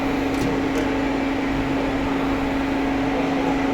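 A Derek 1500 laser machine running with a steady, loud electrical hum and hiss, close by and continuous, with a couple of faint high clicks early on.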